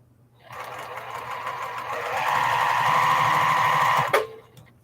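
A sewing machine stitches quilt crumbs with a 1/4 inch seam, running steadily and close for about three and a half seconds, picking up speed midway, then stopping abruptly with a small clunk.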